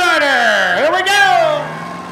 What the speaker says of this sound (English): a Honda Civic racing a Camaro